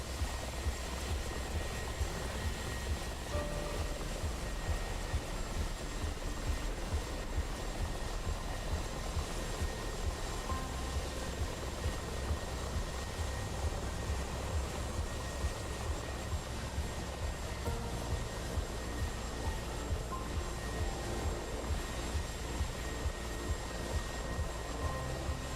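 Model aircraft engine droning steadily throughout a competition flight, a continuous buzzing whine with a constant tone, moderately faint and unbroken.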